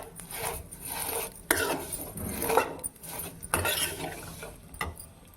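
Sheer kurma ingredients frying in a pan while being stirred, with scraping and clinking of a utensil against metal and a steady sizzle, close and moderately loud, no talking.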